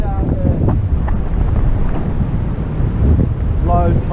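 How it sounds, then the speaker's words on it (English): Strong wind buffets the microphone at a beach by the sea, a loud, continuous rumble with surf beneath it. "Bit windy"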